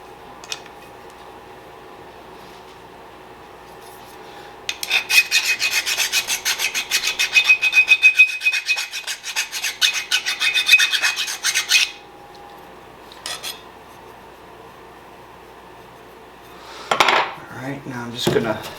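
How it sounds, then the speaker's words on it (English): A hand file rasps against the steel of a meat cleaver in quick back-and-forth strokes, a bright scraping burst lasting several seconds with a short follow-up pass and a few more scrapes near the end, close and alone. "But since I have a file, I'm just going to use that."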